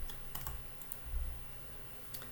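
Rapid clicking of keys on a computer keyboard in a bursty, uneven rhythm with brief pauses, heard up close and fairly quiet with no voices.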